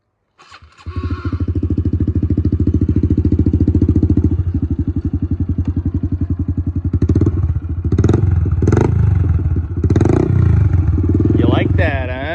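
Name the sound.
dirt bike engine starting and revving, Pro Circuit exhaust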